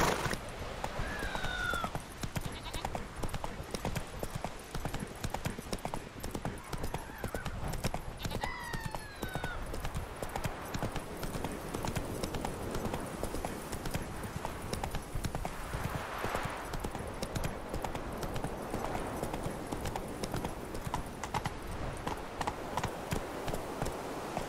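Horse hooves clip-clop steadily on the ground as Roach is ridden in The Witcher 3, a continuous rhythmic trot with an occasional whinny early on, under game ambience.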